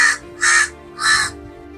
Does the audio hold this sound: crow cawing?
yes